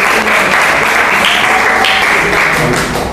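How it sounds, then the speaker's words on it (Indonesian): A ninth-grade class claps after a school project presentation, producing a steady, dense wash of applause that holds throughout without letting up. "Oke, tepuk tangan deh."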